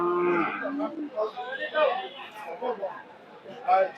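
Cattle and small calves of a local breed mooing at a busy cow market in Bangladesh, several overlapping low and drawn-out calls close by, with crowd chatter in the background.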